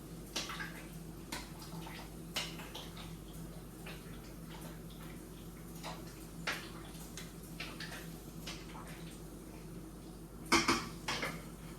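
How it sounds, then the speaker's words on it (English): A spoon scrapes and knocks against a pot of tomatoes and onions for ketchup in quiet, irregular strokes over a low simmering hum, with one louder clatter near the end. "I'm gonna give it a really good stir so all the tomatoes and onions are mixed together"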